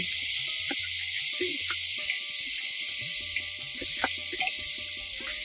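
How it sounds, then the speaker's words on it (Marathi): Tomatoes and vegetables with a little turmeric sauté in oil for a traditional festival dish, making a continuous bright sizzle close by, with soft low knocks and a faint murmur beneath it. "थोडी हळद घालायची आणि हे सर्व परतून घ्यायचे"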